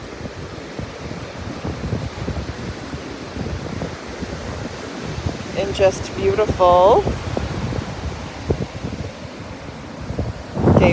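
Wind gusting at a beach beside large ocean surf, a steady broadband roar with waves throughout and short bird-like chirps in the middle; a person speaks briefly.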